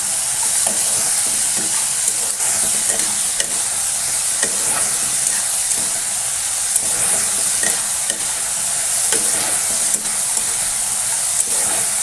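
Vegetable curry with turmeric and salt frying in a pan while being stirred, a loud, dense, continuous sizzle with steady spatula scrapes and hiss throughout.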